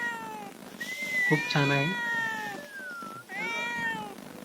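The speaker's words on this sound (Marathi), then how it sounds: "ही आहे आमची मांजर." A pet cat on a farm gives a long, clear meow of several seconds, drawn out and rising then falling, with a second shorter meow near the end; a person speaks briefly over it.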